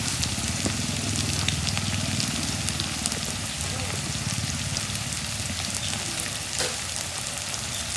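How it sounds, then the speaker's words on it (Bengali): Spices sizzle in hot oil, with chili powder, turmeric, salt and cumin in the pan, giving a dense, steady crackling hiss that runs unbroken throughout, with a few small pops near the end. "মশলাগুলো তেলের মধ্যে ভাইজা নেব।"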